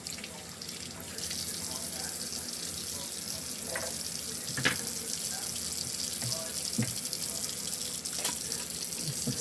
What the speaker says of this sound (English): I'm just going to wash these hands. I'm going to use a nail brush.